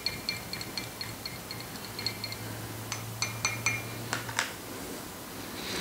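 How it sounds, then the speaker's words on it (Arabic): Glass of water being stirred to dissolve Basix Pure creatine powder, with a spoon clinking and tapping against the glass in an irregular series of light, close chimes over a soft background hiss. "خلنا نحرك كمان"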